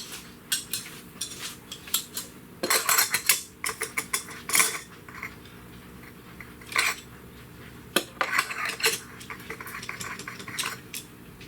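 Metal tools clink, click and ratchet in short bursts and clusters while spark plugs are worked out of a 2013-2017 Honda Accord engine during an engine swap, close and fairly loud between quieter pauses.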